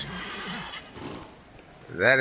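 A horse in the video game Dragon Age: Inquisition neighs loudly near the end, a rising whinny after a stretch of quiet rustling and faint murmured talk.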